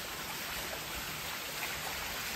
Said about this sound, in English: This is the tiny little brook that is powering this big wheel.